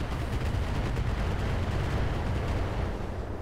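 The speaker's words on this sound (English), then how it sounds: "Yep. Here comes them missiles." Incoming enemy missiles exploding in the combat game Roguepoint, heard as a dense, continuous rumbling barrage of blasts at moderate loudness, with no clear separate impacts.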